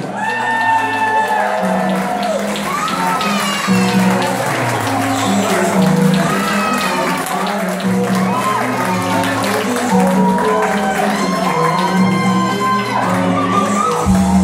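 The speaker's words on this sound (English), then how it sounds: "How about a round of applause for Jessica Solani and Justin DiFiore?" A large audience at a reception applauding with scattered whoops and cheers, loud and sustained throughout over steady music.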